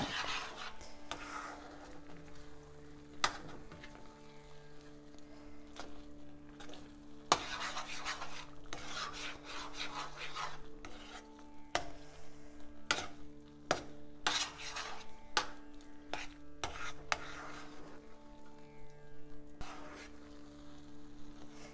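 Spoon stirring pineapple kesari with ghee in a pan over low heat, steady scraping and soft sizzling with scattered sharp clicks against the pan, close but fairly quiet, with a faint steady hum underneath.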